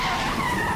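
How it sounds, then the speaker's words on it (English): A police cruiser rams a fleeing car in a chase, giving a loud, close, continuous tire skid that screeches steadily for under a second with no talk. "His cruiser slams, knocking it headlong across the median."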